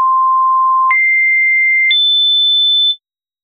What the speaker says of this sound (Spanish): Si renderizo esto a 8000 Hz, las últimas notas van a desaparecer.